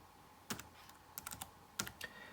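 Keystrokes on a ThinkPad T60 laptop keyboard come in short, quiet clusters of a few taps at a time, with gaps between them. The typing is close-up and nobody speaks.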